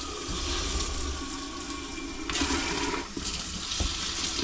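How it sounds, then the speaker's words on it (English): Water runs from a swivel sink faucet in the kitchen of a cargo trailer converted into a camper, a steady close rush that briefly surges louder partway through, with no talking. "Get the sink going."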